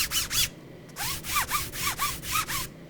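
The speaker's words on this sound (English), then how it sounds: "I'll go ahead and do a sound test of rubbing my finger across the X and Y axis" A finger rubs back and forth across a polyester spandex mouse pad, giving about eight short, close, raspy strokes with brief pauses between them.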